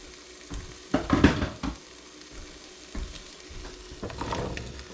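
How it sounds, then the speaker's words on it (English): Potatoes and onions drop into a roux in a big pot for Cajun baked potato soup, making a loud burst of sizzling and stirring that settles into a steady frying hiss with a few scrapes, close up, no voices. "And then we're going to add our potatoes and our onions."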